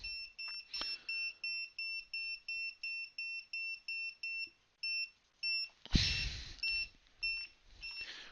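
A gas detector alarm sounds off after detecting alcohol, giving a steady run of sharp, regular electronic beeps with a brief rustle or knock partway through.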